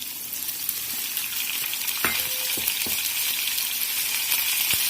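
Chopped onion and tomatoes fry in oil with cumin seeds in a pan, giving a steady bright sizzle with a few faint clinks and stirring knocks.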